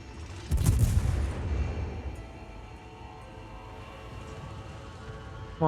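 Naval guns fire in the World of Warships video game, a single heavy booming salvo with a rumbling low-end tail that fades into a steady engine-like ambient hum.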